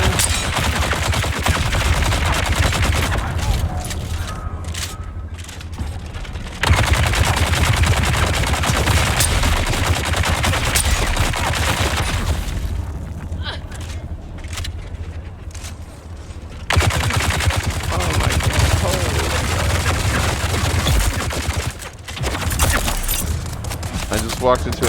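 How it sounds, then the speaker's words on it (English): Rapid, sustained gunfire from a Gatling gun in the video game Dune: Awakening, dense bursts running most of the way through with brief gaps, loud and close, mixed with other game sounds and voices. "Gatling gun?"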